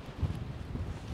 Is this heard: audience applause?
no